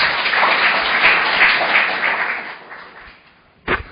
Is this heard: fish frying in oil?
no